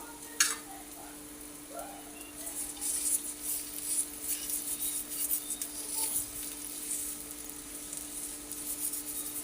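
An aloo paratha cooks in a little oil on a flat pan, giving a soft, continuous sizzle with occasional scraping and rubbing as it is spread and turned.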